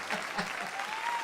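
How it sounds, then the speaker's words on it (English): Short burst of applause during a livestream, a soft, slightly distant spread of clapping hands with no voice over it. "now I think the round of applause, well deserved for that"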